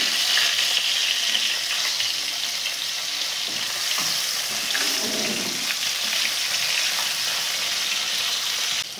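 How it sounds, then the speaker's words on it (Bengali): Chital fish pieces fry in hot oil, turned to cook on both sides, a steady bright crackling sizzle lasting throughout with a brief soft stir midway, no voices. "এপিট ওপিট করে মাছগুলোকে আমি খুব ভালো করে ভাজবো।"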